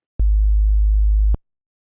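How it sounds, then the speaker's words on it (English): A pure, steady sine tone from a synthesizer oscillator sounds alone for just over a second, starting and stopping abruptly with soft clicks at each end. "Currently, oscillator F is playing a simple sine wave"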